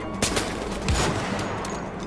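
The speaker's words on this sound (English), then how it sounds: "somebody is using a machine gun!" Machine gun fire in the video game Wolfenstein: The Old Blood, a dense, loud, continuous burst of rapid shots with no pauses.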